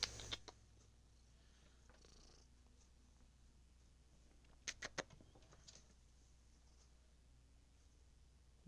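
Pet cat purring quietly and steadily up close, with a few soft clicks and taps scattered through.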